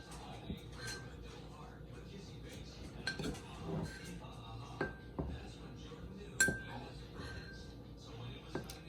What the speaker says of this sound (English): So I'm going to just spoon the flour directly into my cup measurement.